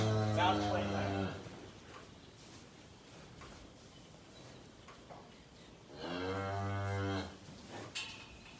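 Beef cows on a farm moo twice, a long loud bellow at the start and another after a pause of several seconds, with quieter low noise between calls.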